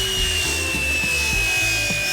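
Saw cutting a wooden floating shelf board to length, rapid rhythmic rasping strokes close up over a steady high mechanical whine.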